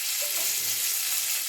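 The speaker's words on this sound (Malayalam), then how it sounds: "ഇതാണ് കടുക് വറുത്തത്." Mustard seeds and curry leaves frying in hot oil for a Vadakkan-style parippu curry tempering, a steady close sizzle with a faint pop early on, no talk over it.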